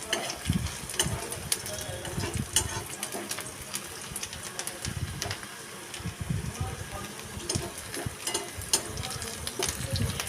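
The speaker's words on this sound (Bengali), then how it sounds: "একটু নাড়াচাড়া করে নিয়ে ভেজে নিচ্ছি" Steady sizzling of onions frying in a pan, with scraping and clinking of a spatula stirring throughout, close and fairly busy.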